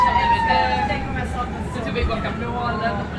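A police siren wails close by on a New York City street as it escorts an ambulance, its rising and falling tone steady over traffic rumble.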